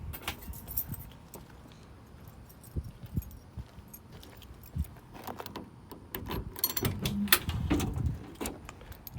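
Car keys for a 1966 Ford Mustang jangle and clink in scattered bursts close to the microphone, with handling knocks and small clatters between.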